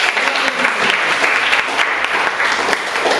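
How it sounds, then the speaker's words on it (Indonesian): Applause in a classroom during a mathematics lesson, a burst of many hands clapping together, close and loud, sustained at an even level throughout. "kita berikan aplaus"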